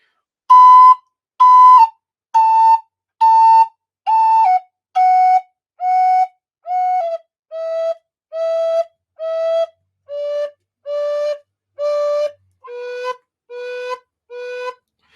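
Native American flute playing a descending run of about sixteen short, clear notes, each sharply tongued at the end so it stops cleanly, evenly paced with brief silences between, solo and close.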